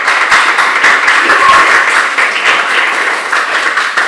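A football show audience giving loud, sustained applause as a goal scorer is welcomed onto the stage, a close, full burst of clapping that stays strong throughout.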